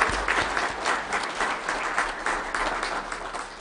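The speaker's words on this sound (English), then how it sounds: "Let's give a round of applause to the Commissioner Harvey." Audience applause fills a county commission meeting room, a steady burst of many hands clapping for a few seconds at moderate distance, with no voices over it.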